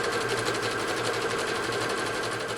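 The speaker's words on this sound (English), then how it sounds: "Here's our straight stitch and our zigzag stitch right along the edge." A sewing machine runs a zigzag stitch along the edge of fabric for gaucho pants, a steady, close, rapid mechanical chatter that holds throughout with no voices.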